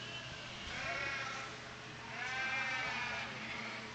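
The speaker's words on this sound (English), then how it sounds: "We've now got our White Dorper younger yearling ewes coming in the ring." Several White Dorper yearling ewes bleat in a livestock show ring, with two long, wavering calls that swell and fade over a steady background hum of the arena.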